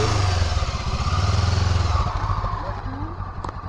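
A Honda VTR motorcycle slows as the rider pulls the clutch and brakes; the close, throbbing engine note drops and thins out over a few seconds while a person talks over it.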